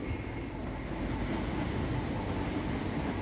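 An Arriva passenger train pulling out of a station, heard from an observation terrace as a steady low rumble that stays even and continuous throughout, with no voices.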